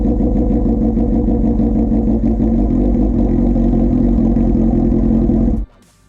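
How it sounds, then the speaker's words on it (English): Suzuki GSXR motorcycle engine running with no exhaust silencer, a loud, harsh, steady idle roar that cuts off abruptly near the end, leaving quiet. "if you were wondering what it sounds like with no silencer on at all, here you go"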